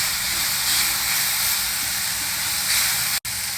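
Chopped methi leaves cooking in a pan with onion and green chillies make a steady close hiss and sizzle that holds through and breaks off briefly near the end, with no talk.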